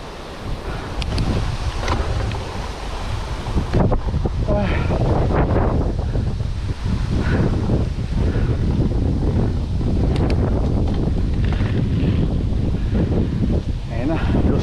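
Strong wind rushing over the microphone during an outdoor bike ride on the way to San Ysiro Falls, a continuous loud roar and buffeting throughout, with a voice talking faintly underneath.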